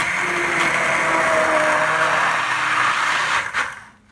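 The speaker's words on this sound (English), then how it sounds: "I'm going to, in a very safe method, I'm going to puree down these vegetables" Blender pureeing cooked vegetables into a base for chicken tortilla soup: a loud, steady motor whir runs for several seconds with slight pitch shifts, then cuts off abruptly into quiet.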